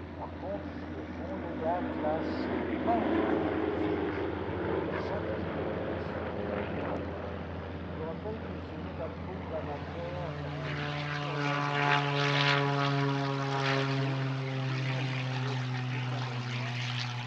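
A propeller aerobatic aircraft roars through a break at an airshow display, its engine note rising and shifting pitch as it passes, loud and sustained, with an announcer talking over it.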